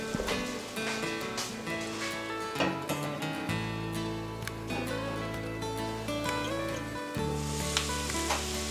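Potatoes and sausage for hillbilly hash fry in a covered pan. A continuous soft sizzle and spatter runs under steady background music, with no talking.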